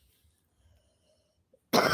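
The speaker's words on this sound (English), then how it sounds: "Sorry, I have this bad cough." A single loud, harsh cough from a person with a bad cough bursts out near the end, following almost complete silence.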